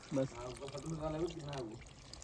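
Water pours steadily into a pot of cooking chicken while someone talks over the splashing.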